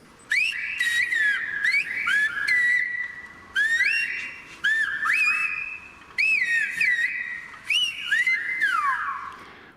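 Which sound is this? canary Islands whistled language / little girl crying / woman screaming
canary Islands whistled language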